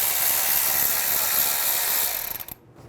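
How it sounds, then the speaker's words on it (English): A ratchet with a 12mm socket loosens the brake hose bracket bolt on a 2011-2014 Hyundai Sonata: a fast, dense whir of clicks up close that slows into a few separate ticks before stopping. "Using a 12mm socket, remove the bolt for the brake hose bracket."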